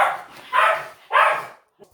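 A dog barks twice in close succession, two loud, fairly near barks with a short pause between, followed by a faint yip.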